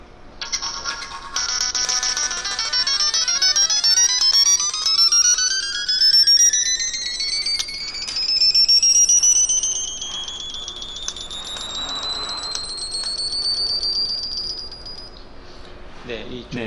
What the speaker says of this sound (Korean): 0Hz부터 4950Hz까지의 주파수를 재생을 하게 됩니다.